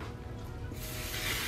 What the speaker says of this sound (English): after I get done with one half, I spray it, and then I do the other half, and I spray it